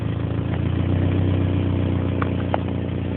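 A ZRE car engine idles steadily with an exhaust leak, giving a close, continuous low rumble with a faint puffing ticking on top, no talk.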